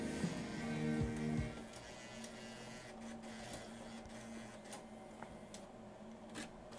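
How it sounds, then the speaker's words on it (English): The CD player in a 2002 Ford Ranger stereo ejects a disc, with a short mechanical whirring and clicking from the motor and gears at the start, followed by quiet faint clicks. "So let's go ahead and try to eject the disc."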